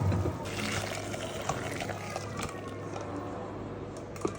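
Boiled cauliflower water is poured out of a pot, a continuous close splashing stream running for several seconds with a low hum beneath it.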